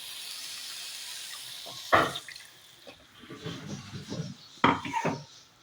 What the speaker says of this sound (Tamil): இப்போ இதில் இந்த தண்ணியை ஊற்ற போகிறேன்.